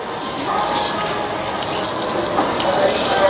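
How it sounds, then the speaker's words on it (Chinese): Grilled pork intestines sizzle with oil at a seafood buffet, a close, steady crackling hiss that swells slightly toward the end. "这个是烤的肥肠，烤的滋滋冒油啊！"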